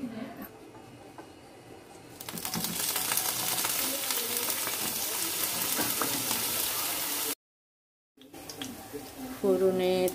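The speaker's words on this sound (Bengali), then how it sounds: "ফোড়নে তেজপাতা, মেথি দানা আর একটু রাঁধুনি" Bay leaf, fenugreek seeds and radhuni hit hot oil for a tempering and break into a loud, bright sizzle that runs steadily after a quieter start, is briefly cut off, then returns under a speaking voice.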